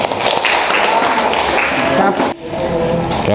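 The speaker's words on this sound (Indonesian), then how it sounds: "tepuk tangan" Classroom applause, with many hands clapping in a dense, loud patter that carries on throughout, briefly dipping near the end before resuming, with children's voices mixed in.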